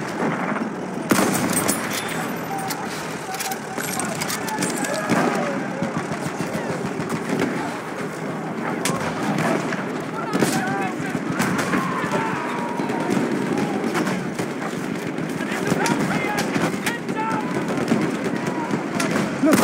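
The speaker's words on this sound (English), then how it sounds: "Enemy machine gun." Enemy machine gun fire in the video game Battlefield 1, heard as continuous rattling bursts and scattered gunshots amid dense battlefield noise, loud and sustained, with voices shouting over it.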